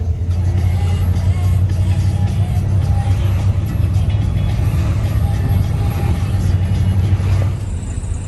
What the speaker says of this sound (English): Have I mentioned there's lots of traffic everywhere?